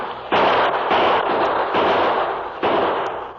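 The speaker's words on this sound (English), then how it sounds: "Keep the bullets flying, men." Rapid volleys of gunshots crackle loudly in a radio drama shootout between the Lone Ranger's men and One Eye's outlaw gang, bursts overlapping in dense continuous barrages with fresh volleys starting after brief gaps, no voices.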